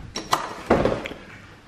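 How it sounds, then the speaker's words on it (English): A door, likely onto a patio, being opened: a couple of sharp close clicks from the latch, then a rattling thump as it swings and settles. "There, he got this door open."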